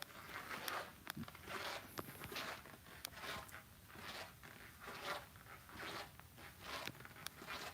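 Zipper on a black zippered knife pouch with red thread, pulled in several short, repeated bursts at close range, with soft handling rustle between strokes and no talking.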